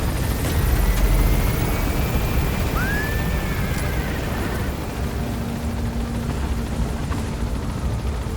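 Extraction helicopter lifting off and gaining altitude in Metal Gear Solid V, a loud continuous rotor and engine roar with a rising whine, steady throughout with game music underneath.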